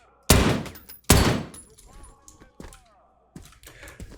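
DShK heavy machine gun fire in the shooter game Operator, two loud booming bursts close by, followed by scattered thuds and softer distant shots.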